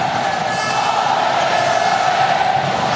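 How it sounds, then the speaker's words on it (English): Basketball arena crowd at an AfroBasket 2007 game between Angola and Cameroon, a steady loud roar of cheering voices filling the hall without a break. "Well, the crowd enjoying themselves here now."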